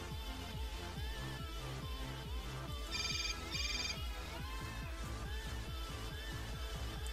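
A phone rings in the video game Hotline Miami 2, with two short bright trilling bursts over a loud, driving electronic beat.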